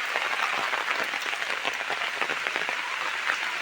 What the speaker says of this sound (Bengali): জোরদার একটা বৃষ্টি হচ্ছে